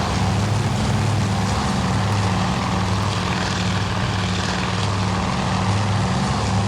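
A steady, loud drone of propeller engines from bombers over the Battle of Midway in the Task Force Admiral naval video game, running unbroken from start to finish with a low, throbbing hum beneath a wash of noise.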